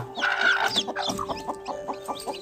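A hen with a brood of young chicks clucks close by, a quick burst of calls followed by a run of short, evenly spaced clucks and softer peeps.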